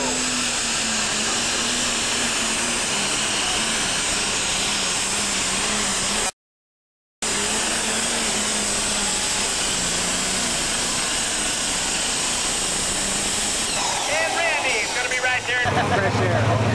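Super stock pulling tractors at a Saline, Michigan NTPA pull roar loudly and continuously, a droning engine note that holds under an announcer's voice, briefly cuts out, then swells again toward the end.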